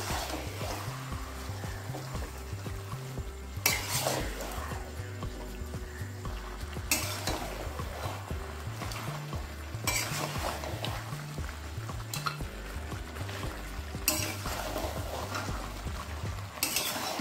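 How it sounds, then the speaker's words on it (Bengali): Mutton being sautéed and stirred with onions in a pot, a continuous fry hiss under a repeating low rhythmic thud and periodic loud scraping bursts of the spoon, close by and without speech. "পেঁয়াজের সঙ্গে মাংসটা একটু কষিয়ে নিচ্ছি"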